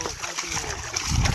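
Splashing and gurgling water as someone wades knee-deep through a stream while catching crabs in the hot summer, close and continuous under faint talk.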